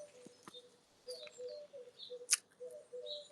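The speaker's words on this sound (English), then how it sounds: "you can hear the pigeons cooing" Pigeons softly cooing and small birds chirping in a quiet front garden beside a church, the calls faint and intermittent against low background hiss.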